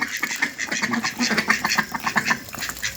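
Close-up ducks quack repeatedly in quick, overlapping bursts while being fed rice and rice bran on a farm, making a busy, steady chorus.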